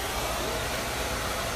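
An Arrojo Twin Turbo Power Lux Motor hair dryer blows steadily at full power, a loud, constant rushing whoosh with a low motor hum, close and unbroken throughout.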